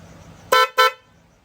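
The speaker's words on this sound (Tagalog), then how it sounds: "Ito na yung try ng busina natin." Two short, loud honks from a motorcycle dual horn in quick succession, close by, with quiet background before and after.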